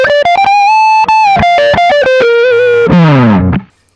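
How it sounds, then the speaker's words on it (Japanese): Electric guitar driven through a VOX MV50-BQ Boutique valve head with gain at maximum, loud and heavily distorted, playing a quick run of choppy notes and chords that ends on a ringing chord which cuts off abruptly. "ゲインマックスで、ちょっとボリュームは調整しますが、歪ませてる場合だと、 ここまで歪ませることができます。"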